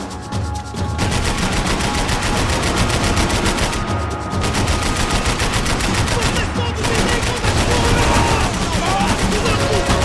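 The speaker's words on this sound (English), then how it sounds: "I can't concentrate with bullets whizzing past my head" Sustained automatic gunfire rattles in rapid bursts during a Max Payne 3 firefight, loud and dense with brief gaps, while voices shout over the shooting.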